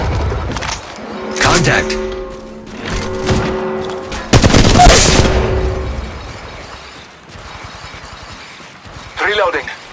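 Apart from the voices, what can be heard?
gunfire in the Apex Legends Mobile video game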